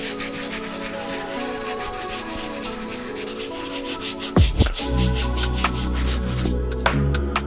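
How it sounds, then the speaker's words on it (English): Medium bristle brush scrubbing stains out of the leather of an Air Jordan 13 sneaker, steady close rubbing strokes with a few sharper knocks partway through. "use our Medium Bristle Brush to try to get some of these stains out the leather"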